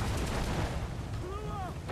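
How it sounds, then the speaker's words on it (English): Heavy shot cannon fire from a sailing ship in Assassin's Creed 4 Black Flag, a rumbling low barrage of booms rolling together, followed by faint whistling tones near the end. "I'm using my heavy shots right now."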